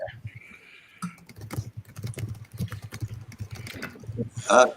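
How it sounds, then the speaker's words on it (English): Heavy, forceful typing on a computer keyboard, rapid uneven clatter of hard key strikes throughout, with voices chatting over it. "Even in his leisure, he's working when typing."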